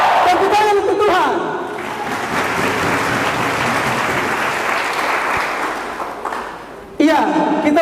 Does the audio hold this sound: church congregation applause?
yes